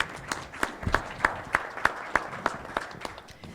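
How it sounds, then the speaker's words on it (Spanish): Audience applause at an electoral justice congress panel in Mexico, heard as a thin run of evenly spaced claps, about three per second, fairly quiet and steady for several seconds. "Un fuerte aplauso para ella, por favor."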